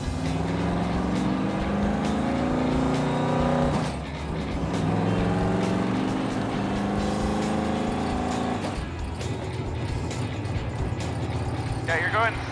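Supercharged hot-rod engine driving on the road, a steady loud in-cabin drone with clear harmonic tones that dip and rise again at gear changes, with voices faintly under it.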